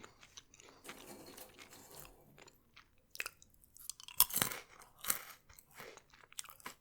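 Crunchy chewing of Star Wars Goldfish crackers, including classic goldfish shapes, with loud, close bites and rhythmic munching bursts in a quiet room, no talking.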